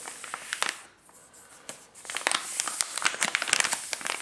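Plastic food pouches from an Augason Farms 48-hour emergency bucket crinkle and rustle as they are handled, in quick close bursts with a short lull before the rustling picks up again.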